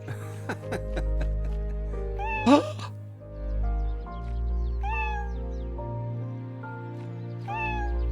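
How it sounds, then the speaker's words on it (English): Inside the video game TIES: Soul Link, a cat meows several times in short, clear rising calls over soft music, with no one talking. "You can pet the cat"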